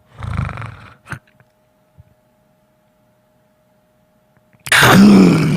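A voice imitates sleep-apnea snoring: a rough snort and a short throat sound, then a long silent pause of held breath, then a loud gasping, rasping snore bursting out close by.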